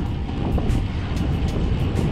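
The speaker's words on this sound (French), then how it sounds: "Sacrée rafale de vent par moment." Strong gusts of wind buffet the microphone during an autumn road-bike ride, a steady loud roar with surging rushes throughout, no voices.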